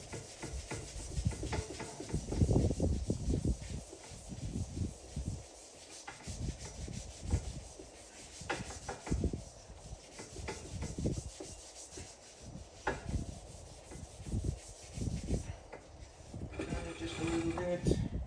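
A Scotch-Brite pad scrubbing metal parts on an Edsel's tailstock, steady close rubbing strokes in an uneven rhythm that carries on throughout, with faint background noise.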